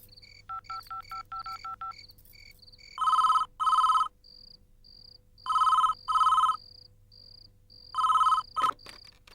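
A mobile phone rings during a movie scene: a few light beeping tones first, then loud electronic ring bursts arriving in pairs at steady intervals, with no talking over them.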